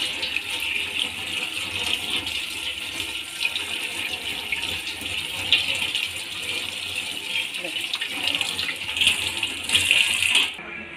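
Water running from a tap as henna paste made from sugar and wheat flour is rinsed off a hand, a steady close splashing wash that continues throughout.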